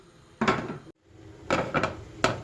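Pan holding chopped onion and oil set down on a stove, giving a few separate close metallic clunks and knocks spaced over two seconds, with a brief silent gap.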